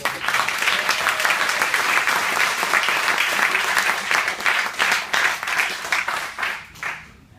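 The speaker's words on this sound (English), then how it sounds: "let's give the parents a round of applause" A crowd bursts into loud, sustained applause, dense clapping that holds steady for several seconds before tapering off at the end.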